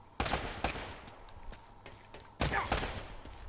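Gunfire rings out in the video game Uncharted: The Nathan Drake Collection, a handful of sharp, separate shots and short bursts at uneven intervals over a quiet background, some landing close together.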